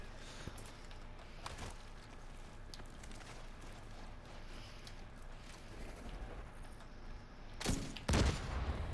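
A gunshot in Tom Clancy's The Division 2 rings out sharply near the end, preceded by a faint earlier crack over a steady low background of game ambience.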